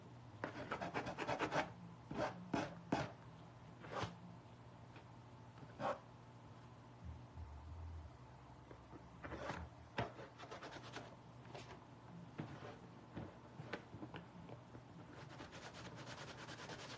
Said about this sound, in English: Just go take your sanding block around